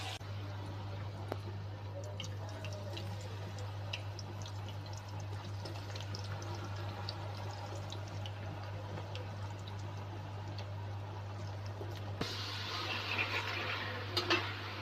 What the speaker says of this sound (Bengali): এই তো আমার মজাদার বানানা চিপসগুলি ভাজা প্রায় শেষ।